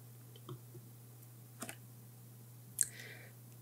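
A computer mouse clicking while setting up a cloud server instance: a few faint, sharp clicks spread out one by one over a low steady hum, with no talking.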